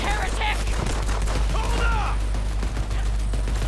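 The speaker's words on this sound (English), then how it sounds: "Yeah, it's just a fucking SMG." SMG gunfire in the video game Borderlands 3: quick bursts of sharp shots crackle over a steady low game drone, loud and close, with no talking.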